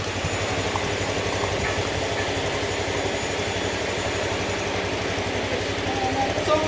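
A Honda motorcycle engine idles close by while warming up after an overhaul, a continuous low rumble with a fast, even pulse that holds level throughout, with faint background noise.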